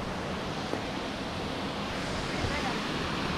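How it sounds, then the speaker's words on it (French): Steady broadband rush of falling water, a small waterfall on Réunion Island close by, continuous and fairly loud with no pauses. "Petite cascade de toute beauté."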